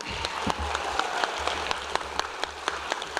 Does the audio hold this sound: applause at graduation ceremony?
yes